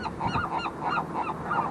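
A seagull at Morro Harbor gives a rapid series of loud, nasal honking calls in a quick rhythmic burst, close by and alone.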